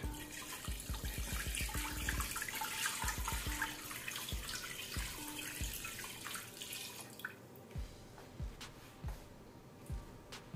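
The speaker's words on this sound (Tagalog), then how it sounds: "Lalagay tayo ng tubig." Tap water running and pouring into a cooking pot holding beef bones before pressure cooking, a steady close splashing stream that stops after about seven seconds, followed by a few separate clanks and drips.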